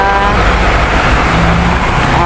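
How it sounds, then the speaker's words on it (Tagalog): A double decker bus rolls past in city traffic on a Sunday, its broad engine rumble loud and close, steady across the moment with a faint tonal whine on top and no speech. "Ayan, double decker bus."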